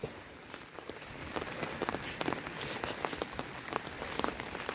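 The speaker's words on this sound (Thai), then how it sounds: "ตามบรรยากาศฝนตก" Steady rain pattering on a surface during rice planting in a paddy field, with dense scattered drops and a few sharper splashes, continuous throughout and fairly close.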